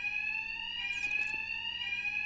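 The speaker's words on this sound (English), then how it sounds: "We'll be covered by the noise of the alarm." A blaring alarm in the video game Batman: Arkham Knight, a steady electronic tone with strong harmonics that holds loud and continuous with no pauses, with some fainter sweeping noise in the middle.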